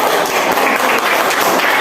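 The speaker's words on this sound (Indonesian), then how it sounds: "tepuk tangan dulu untuk" Classroom applause for student presenters, a dense steady patter of many hands clapping throughout at a loud, even level.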